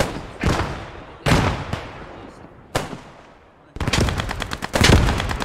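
Rifle gunfire in the World War II shooter Post Scriptum, several sharp loud single shots spaced apart, followed by a denser cluster of crackling shots near the end, with no talking.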